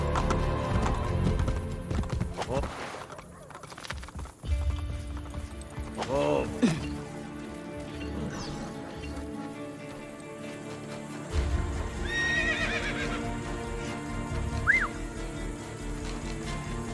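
Horse hooves clip-clop steadily in the video game Assassin's Creed Brotherhood, with a brief neigh, gurgling water and game music layered underneath; the sound stays moderate and busy throughout.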